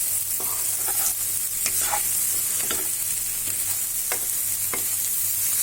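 Yardlong beans (borboti) fry on high heat in a pan, a loud, constant sizzle with repeated scraping and stirring clicks throughout and no voices.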